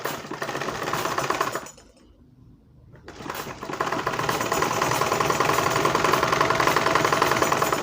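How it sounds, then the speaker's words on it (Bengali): A sewing machine stitches a blouse in steady, rapid mechanical runs, dropping into a brief pause of near quiet before starting again and running on continuously and loudly. "এই প্রথমে একটা সেলাই মেরে নিলাম।"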